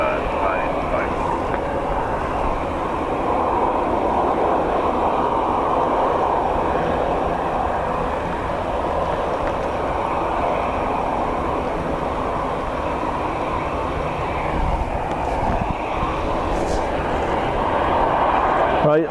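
A passenger jet takes off at Dublin Airport in windy, wet weather, its engine roar a broad steady rumble throughout, with people talking over it.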